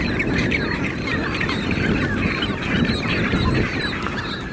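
Dense chorus of penguins calling in the Antarctic, many overlapping harsh honking and braying cries forming a continuous loud colony din with no voices.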